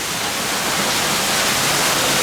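A waterfall splashes beside the macaw enclosure at the National Aquarium in Baltimore, a loud, steady rush of falling water close by.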